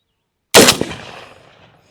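A single sharp gunshot from a .243 Winchester rifle on a Bear Creek Arsenal upper, fired at an 8-inch steel target 150 away, loud and close with a brief metallic ring and a decaying tail.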